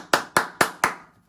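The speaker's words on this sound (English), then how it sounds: "I'm going to give myself a round of applause." One man claps for himself, four crisp, evenly spaced hand claps in quick succession, close and clear, fading after the last clap.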